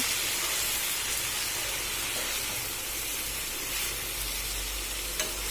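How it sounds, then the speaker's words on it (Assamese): Chicken liver and gizzard fry in a pan, giving a constant, moderately quiet sizzle and hiss that holds evenly throughout, with a tiny click near the end. "ঢাকোন দি পেলাই আকৌ 5 মিনিটমান এনেকৈ ৰাখিব, আকৌ এনেকৈ ভাজি থাকিব।"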